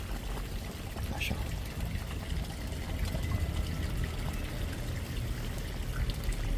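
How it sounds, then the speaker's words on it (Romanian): Dressing pours steadily into a pot of Transylvanian smoked-bone potato soup with tarragon, a continuous close trickle running for several seconds under low kitchen noise. "Dressingul aici, peste ciorbă."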